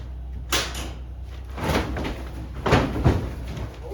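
A shed door frozen to the ground in winter being forced, giving several scraping, thudding jolts and creaks close by, some of them heavy and uneven.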